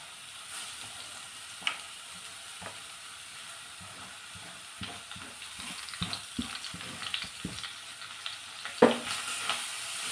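Grated radish with turmeric and coriander frying in a pan gives a low steady sizzle, broken by scattered soft clicks and scrapes of stirring, with a sharper knock near the end; no voices.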